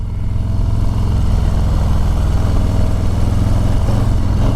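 A 2020 Harley-Davidson Low Rider S motorcycle engine roars loudly and steadily during a test ride, a continuous close, dense throbbing drone with no talk over it.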